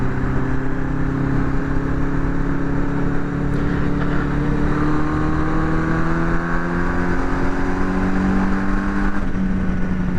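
A Honda CB750 motorcycle running after a carburetor swap, its engine humming steadily under light throttle while riding, with a slowly rising pitch and constant wind rush, loud and close with no talk.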